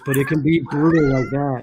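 A cat meows in several drawn-out, wavering cries close to the microphone, overlapping someone talking.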